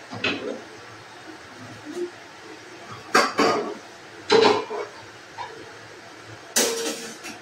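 A rice cooker set down on a gas stove in a home kitchen, a few sharp metallic clanks and knocks spaced apart against a quiet background.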